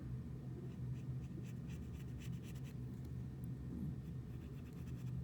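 Pencil or pen scratching steadily across paper while a calculus solution curve is sketched by hand through a direction field, a continuous close scratchy texture with no talking.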